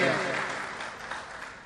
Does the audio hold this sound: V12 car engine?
no